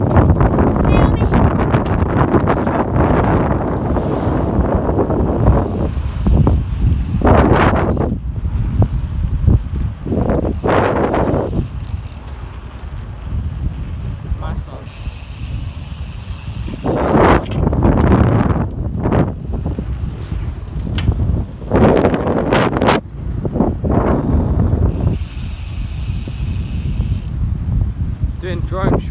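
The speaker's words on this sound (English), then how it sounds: "Way too windy for that." Strong gusts buffet a microphone outdoors near an airfield, producing loud, uneven rumbling bursts that swell and fade over and over for the whole stretch.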